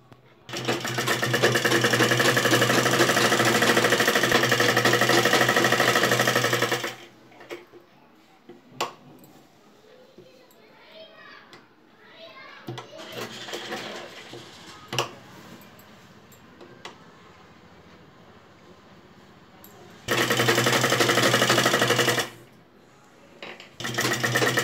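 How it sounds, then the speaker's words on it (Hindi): A sewing machine stitches along the fabric edge of a neck design, running loud and steady for several seconds, stopping amid quieter handling clicks and rustles, then starting again for another short burst. "अब यहाँ किनारी पे हम बिल्कुल इस पे सिलाई लगा लेंगे।"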